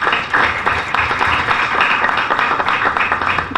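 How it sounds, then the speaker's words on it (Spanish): An audience claps at a book presentation, a dense, moderately loud patter of many hands continuing without pause for a few seconds, with no talking. "Creo que también ellos se merecen un aplauso"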